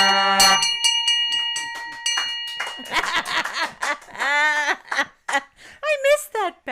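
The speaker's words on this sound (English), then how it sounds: "Wishing that the second mate would strike the bell" A ship's bell is struck once, ringing out with a bright metallic tone that sustains and decays, followed by people talking and laughing aloud over the fading ring.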